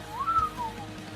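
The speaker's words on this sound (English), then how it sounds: "you want me to whistle on your record?" A single person whistles a short melodic phrase, the pitch rising then gliding down over about a second, moderately loud and alone with no talking.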